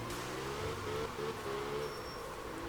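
A racing video game car engine drones steadily while drifting, a mid-pitched hum with small rises and dips in revs, fairly quiet and continuous with no one talking over it.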